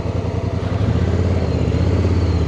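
A 2024 Honda Africa Twin DCT motorcycle pulling away on a ride toward the Thruway near Buffalo, a loud, close, steady low engine rumble that builds slightly as it moves off, with no speech.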